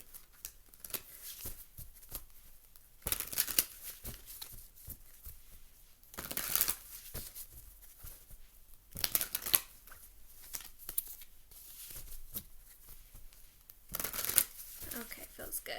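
Lenormand Fairy Tale cards are shuffled by hand in repeated riffling bursts at close range, separated by quieter handling, with a voice present at times.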